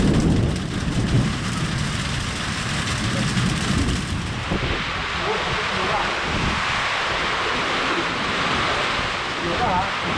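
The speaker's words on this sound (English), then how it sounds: "We made it just as it started pouring." Heavy rain pounds a metal-roofed hut, a dense, loud roar of drumming water with a deeper rumble of thunder in the first few seconds, easing into a steady downpour.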